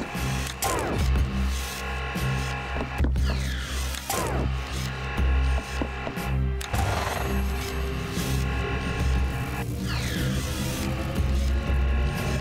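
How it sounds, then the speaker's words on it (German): A video game machine powering up with a rumbling hum, repeated rising mechanical whines and clanks over a steady low drone, loud and close. "mit dem Brumm erwacht die Maschine zum Leben"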